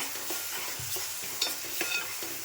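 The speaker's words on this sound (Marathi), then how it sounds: "वाटणाला जरा उकळी आली पाहिजे" Ground masala paste for a Malvani mackerel curry bubbling in a pan, a continuous hissing sizzle with small pops and stirring scrapes, close and steady throughout.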